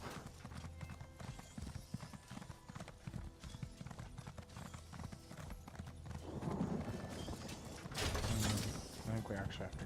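Horse hooves clip-clop steadily in the Elder Scrolls Online video game, a quick rhythmic trot under game music and ambience, with a brief neigh-like burst and louder activity near the end.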